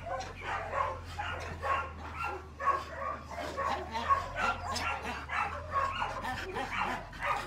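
Several dogs whimper and yip excitedly close by, with snuffling and shuffling against a low steady hum, while a person talks over them.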